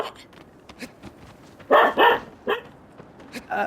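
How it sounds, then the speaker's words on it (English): A pet dog barks indoors in a few sharp bursts, loud and close, with quieter yips and whimpers between them in an otherwise calm room. "Sorry, that's my dog."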